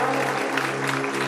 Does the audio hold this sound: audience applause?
yes